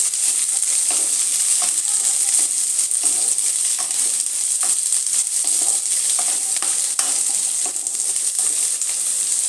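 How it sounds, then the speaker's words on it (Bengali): Pumpkin, eggplant, potato and two green chillies fry with onion in a pan over a medium flame, giving a loud, steady sizzle throughout with occasional stirring clicks and scrapes. "কুমড়ো অ্যাড করে দিলাম বেগুন আলু আর দুটো কাঁচা লঙ্কা পেঁয়াজের সাথে এই সবজিগুলোকে একটু ভেজে নেব"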